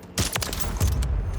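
Rapid video game gunfire fires a quick burst of close, loud shots during a stream. The shots cluster at the start and come again shortly after, with no talking over them.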